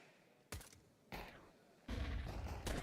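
Gunfire in a Counter-Strike match between NAVI and Falcons at IEM Cologne Major, several sharp separate shots and short bursts, fairly faint and spaced out, with a louder clatter of rapid fire near the end.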